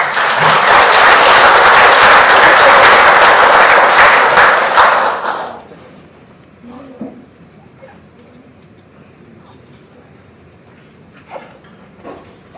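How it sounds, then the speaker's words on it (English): Loud, dense audience applause at a road safety awards ceremony in Trinidad and Tobago fills the first five seconds, then cuts off to a quiet room with a few faint knocks and shuffles. "Let's give her a round of applause."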